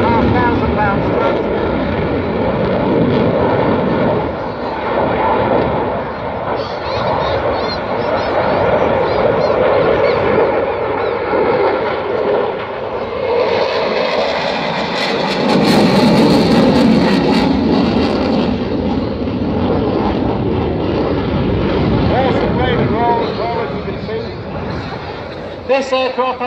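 A twin-engine jet with 20,000 pounds of thrust per side roars past at the 2016 Dunsfold airshow, a loud continuous rumbling blast that swells as it passes and fills the whole stretch.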